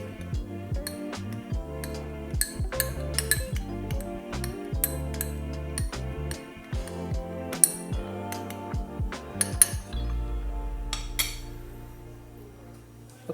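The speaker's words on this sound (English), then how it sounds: "So now we stir." A spoon clinks repeatedly against the side of a cup while stirring lemongrass tea sweetened with coconut sugar. The taps come quick and irregular for about ten seconds, then give way to a softer swirl and a few more light clinks near the end.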